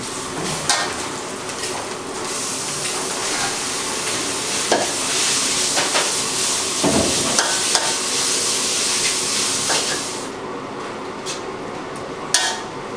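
Minced pork stir-fried in a hot pan, a continuous close sizzle with repeated scraping and clinking of a spatula against the pan, a few sharp knocks standing out.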